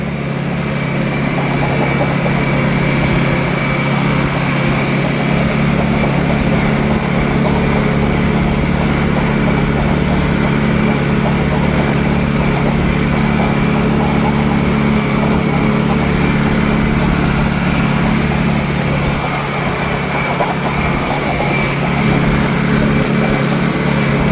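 A tractor engine running steadily while planting triticale in a field, a loud continuous low drone with vibration, close by and unbroken for the whole stretch.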